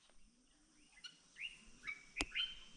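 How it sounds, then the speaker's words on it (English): Birds chirp outdoors at sunset, a few faint, scattered tweets from some distance in otherwise quiet surroundings. "Can you hear the birds?"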